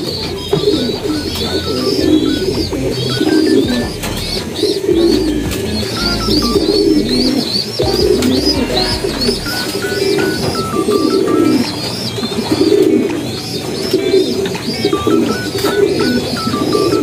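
Pigeons cooing in a loft, repeated throaty coos rolling in overlapping waves from several birds close by, with some higher chirps and thumps of movement mixed in, no talking.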